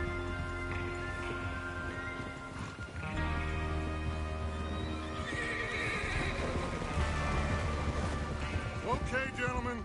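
Horses in a video game neighing and whinnying loudly over steady clip-clop hooves, with a musical score and game voices running underneath throughout.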